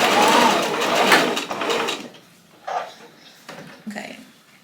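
A sewing machine runs steadily for about two seconds while stitching the sleeves onto a puffer jacket, then stops, followed by a few short handling clicks and thumps.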